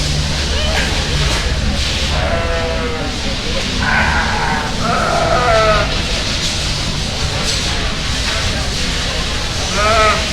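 Sheep bleating at a breeding sheep show, with repeated wavering calls rising over a steady crowd murmur and arena hum while people talk nearby.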